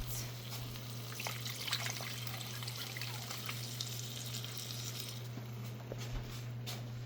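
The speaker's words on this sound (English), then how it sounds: "Then I'm going to add water to it." Water pours into a pan of Hamburger Helper mixture in a steady splashing stream for several seconds over a low constant hum, close by and moderately quiet.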